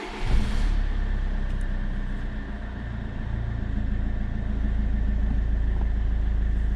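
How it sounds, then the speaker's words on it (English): Peugeot 308 diesel engine cranking and catching after an additive bag replacement, then settling into a steady low rumbling idle that grows slightly louder, heard close up with no talk. "So now I can start the engine."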